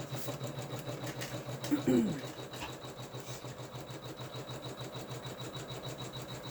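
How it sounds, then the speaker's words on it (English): Sewing machine running steadily with black thread, stitching down the batting placement area on a quilted mug rug, a continuous close mechanical hum with a brief louder bump near the start. "stitching down the batting placement area for the batting"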